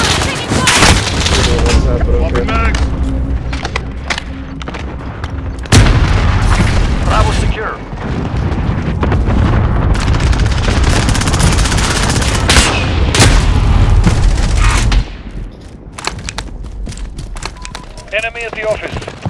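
Gunfire and explosive booms from the Call of Duty: Modern Warfare video game, loud and repeated in bursts throughout, with game voices and player talk over the shooting.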